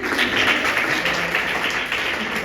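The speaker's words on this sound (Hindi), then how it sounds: "एक बार बजाओ ना जोरदार ताली" An audience claps loudly at a Hindi poetry recital, a thick continuous burst of applause from many people held evenly for a couple of seconds, with no speech over it.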